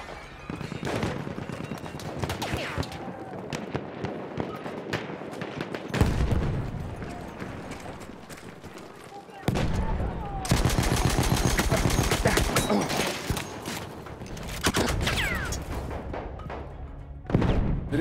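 Gunfire in Battlefield 1 multiplayer: loud bursts of rapid automatic fire and single shots one after another, with sustained machine-gun stretches and little talk.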